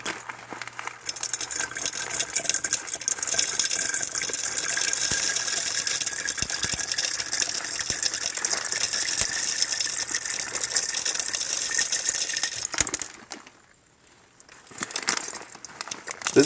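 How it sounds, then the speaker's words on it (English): Gravel pours steadily into a container of dirty clad coins soaking in vinegar and salt, a dense, close rattling and clinking that runs for about twelve seconds before cutting off, followed by quieter handling. "I'm going to try to pour some gravel in here without making too much of a mess."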